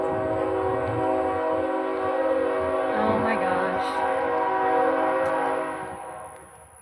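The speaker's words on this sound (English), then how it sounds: "But when the real train comes through, oh, then you can hear it." A passing freight train sounds a long, loud, sustained multi-tone horn close by, with rumbling rail noise beneath; the blast holds for several seconds before fading, while a woman briefly exclaims over it.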